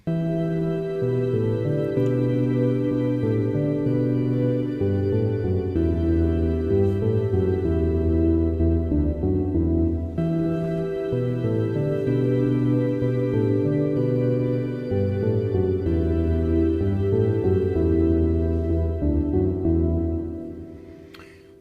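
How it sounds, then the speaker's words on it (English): Sustained organ-like chords from a Korg Gadget synthesizer hold beneath a slower organ lead melody, changing notes every few seconds and fading out at the end. "They consist of an ambient organ and an organ lead, and it sounds like this."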